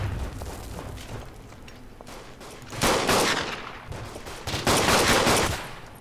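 Gunfire in the World War I shooter Verdun: a dense, crackling mix of distant rifle and machine-gun fire, swelling into two louder bursts of close shooting against a constant battlefield din.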